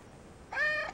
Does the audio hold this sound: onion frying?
no